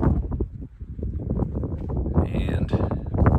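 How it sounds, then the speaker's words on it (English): Wind buffeting a microphone outdoors in Wyoming beside a camper van, a steady low rumbling roar throughout, with brief higher noise bursts near the end. "you're gonna have to apologize for the wind"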